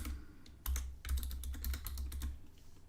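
Rapid keystrokes on a computer keyboard as a password is typed, a close, quick run of clicky taps after a brief pause.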